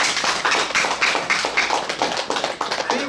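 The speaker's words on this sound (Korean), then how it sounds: "박수 한번 주시죠" Clapping in a Buddhist temple gathering during a monk's dharma talk, a close, fairly loud run of distinct rhythmic hand claps at a steady pace, sounding like a small group rather than a large crowd.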